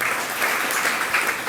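Audience applause at a religious discourse during a temple altar consecration festival, a dense, steady clapping that fills the whole moment at close range with no voices over it.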